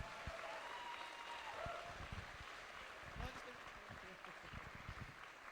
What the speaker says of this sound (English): I really think that we should also applaud for everyone who made it to the finals instead of only the top 3.